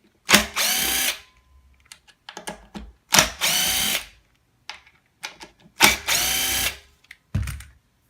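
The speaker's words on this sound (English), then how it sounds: "just use a regular screwdriver" A power screwdriver backs the neck screws out of a guitar in three loud bursts of whirring, and quieter clicks and handling noises fill the gaps between them.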